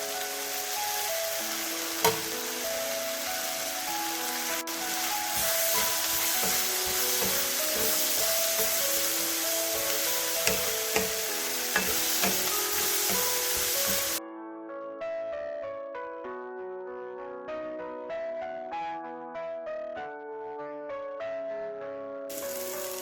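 Beetroot and green chili fry with a steady sizzle in a pan for beetroot mezhukkupuratti, occasional stirring clinks over it, then the sizzle drops away as background music takes over.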